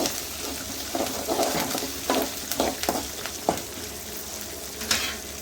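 Mustard seeds, cumin, chana dal, curry leaves, chili and garlic tempering in hot oil: a steady close sizzle with repeated stirring scrapes and small pops.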